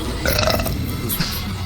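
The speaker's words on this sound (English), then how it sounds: "Really, dude? You have to burp?" A single loud burp from a man during a casual gaming session, lasting under two seconds with no speech over it.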